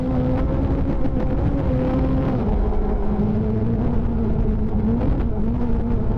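A Peugeot 208 R2 two-wheel-drive rally car at the Rali Serras de Fafe, its engine holding a steady, loud droning note that climbs gently in pitch, with continuous road rumble underneath and no voices.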